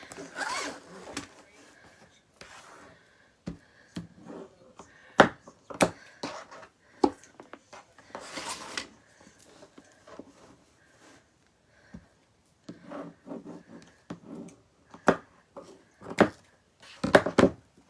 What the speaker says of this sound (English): we're just going to cut those now since we're in ribbon cutting mode